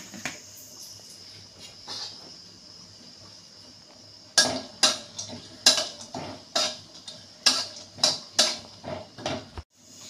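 Melon seeds and charoli being roasted in ghee in a pan, with a quiet low sizzle at first, then a run of sharp metallic clinks and scrapes of a spoon against the pan, evenly spaced and close.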